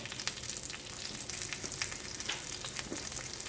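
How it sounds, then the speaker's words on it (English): A steak sears in a hot pan, giving a loud, steady crackling sizzle with sputtering pops throughout and no talking. "We're going to lay the steak in there away from us, like so."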